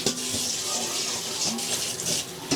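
Tap water runs in a steady hiss while a grater is rinsed under it, with small clatters and shifts in the splashing as the tool moves through the stream, close by.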